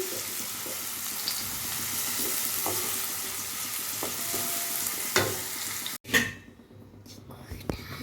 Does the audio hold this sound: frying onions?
yes